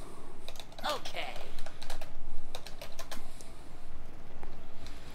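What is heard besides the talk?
typing on a computer keyboard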